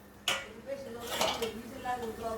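A metal lid clanks onto a cooking pan, a sharp clatter followed by further rattling and scraping of cookware, with a person speaking nearby.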